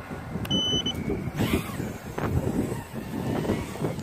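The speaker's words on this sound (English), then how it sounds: "Man, the wind is really picking up here." Wind buffeting a microphone outdoors during a small quadcopter test flight, rough, low, fluctuating rumbles and gusts that fill the whole clip, loud and close, with no talking.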